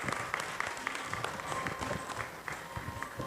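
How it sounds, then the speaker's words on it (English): A crowd claps steadily at a launch event for Monkey 555 Wonder Wash liquid laundry detergent, dense, even applause with scattered sharper claps and no voices. "please welcome with a big round of applause"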